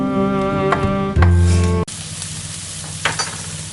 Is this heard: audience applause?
no